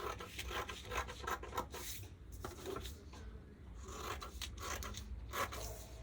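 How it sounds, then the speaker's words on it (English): Scissors snip through a paper or fabric skirt pattern piece in a steady run of close, dry rasping cuts and slides, with brief pauses between strokes and no talking. "So I'm gonna cut this out."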